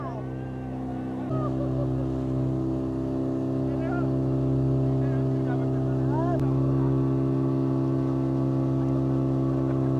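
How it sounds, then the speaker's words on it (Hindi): A motorboat engine drones steadily on the water at Pachmarhi hill station, close and loud with a constant low hum that thickens slightly after the first second and holds to the end. "ये मोटर बोट"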